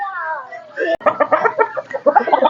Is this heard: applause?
no